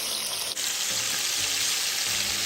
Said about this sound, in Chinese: 将香料渣直接放入油炸。